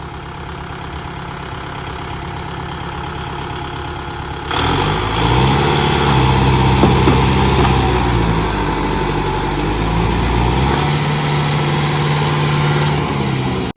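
A 60 HP Kubota 4x4 tractor engine idles, then rises to a loud, steady heavy drone as it works to pull a brick-loaded trolley, low throbbing continuous and close.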